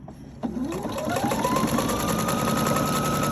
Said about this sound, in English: Okay, so let's stitch a little bit.